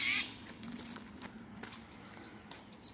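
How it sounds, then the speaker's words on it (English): Odd, faint bird calls drift through a forest, a few thin chirps arriving late over a quiet, rustling background. "strange birds, strange bird noises"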